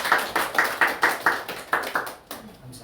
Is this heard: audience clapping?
yes